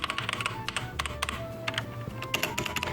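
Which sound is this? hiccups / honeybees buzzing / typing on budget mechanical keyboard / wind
typing on budget mechanical keyboard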